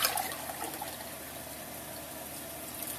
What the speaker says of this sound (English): So let me pour it back here in my measuring cup.